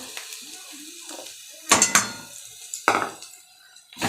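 Dry semolina being stirred in a pan ahead of a Bengali semolina breakfast dish, giving a few sharp scraping and clinking strokes of utensil against metal between quieter pauses, close and moderately loud.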